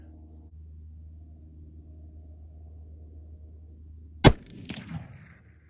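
A single sharp report from a Bergara B-14 HMR rifle fired on a target range, cracking loud and close after a few seconds of low steady rumble, then trailing off in a short echoing tail.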